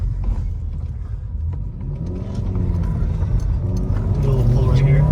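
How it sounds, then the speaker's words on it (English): A turbocharged Chevrolet Cobalt SS accelerates from inside the cabin, a low engine rumble building steadily as revs climb, heard under people talking. "The turbo does sound good."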